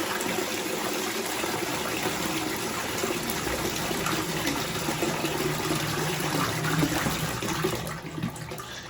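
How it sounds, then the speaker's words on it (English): A house toilet flushes with a loud, sustained rush of water that roars steadily for several seconds and then begins to subside near the end, heard up close in a bathroom. "that was a bigger flush than I thought it was going to be"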